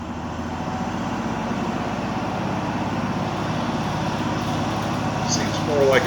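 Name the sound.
vintage Viking box fan running on high, rattling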